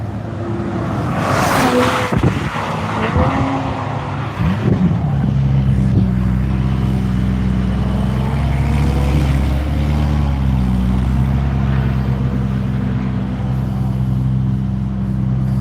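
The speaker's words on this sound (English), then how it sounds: "Here comes DJ in the Supra." Toyota Supra race car on the track at NCM during a One Lap of America session, its engine rising into a loud, sustained drone as it passes close, with wind noise over the microphone.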